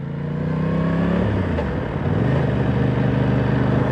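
Aprilia Tuono 660 Factory motorcycle pulling away in first gear, engine tone rising steadily with throttle, dipping briefly and climbing again, loud and close throughout.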